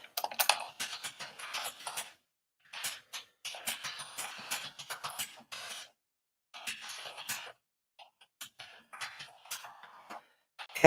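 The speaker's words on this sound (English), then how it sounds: "Typing ASMR." Rapid computer keyboard typing in close bursts, pausing briefly between runs of keystrokes, with no voices.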